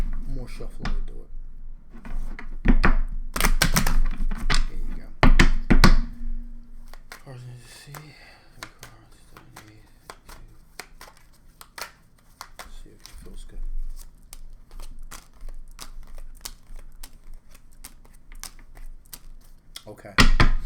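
Tarot cards shuffled by hand in repeated bursts of riffling and soft slapping, fairly close and moderately loud, with a person talking at the start and a few quieter card taps afterwards.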